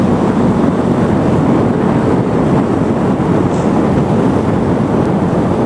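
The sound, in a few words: wind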